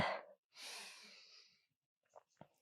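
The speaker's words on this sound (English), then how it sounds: "Keep breathing through your nose." Slow nasal breaths during a yoga Pilates core workout: a short exhale, then a longer drawn breath through the nose, followed by two faint sniffs, close and quiet with no talking.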